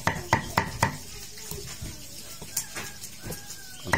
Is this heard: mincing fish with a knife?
yes